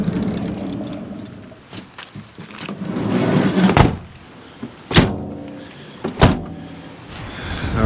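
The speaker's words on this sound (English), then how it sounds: "I'm gonna go get those back doors closed" Back doors of a camper van get closed at an oceanside cliff campsite, with shuffling and handling followed by several sharp close slams and thunks spaced a second or so apart, no talk.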